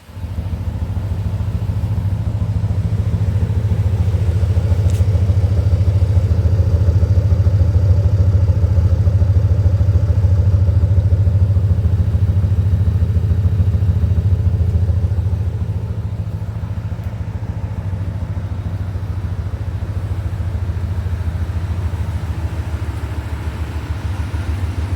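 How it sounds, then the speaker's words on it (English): A 1985 Chevrolet Corvette engine idles steadily inside a barn, a loud, continuous low rumble that eases slightly partway through and holds alone without talk. "the 85 Vet idling."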